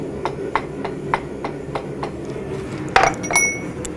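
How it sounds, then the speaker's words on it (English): Hot steel being worked with a chisel to curl the tail of a forged crane, giving a steady series of light metallic clinks about twice a second, then a brighter ringing strike near the end. "now with the chisel, I'm then going to curl the tail up"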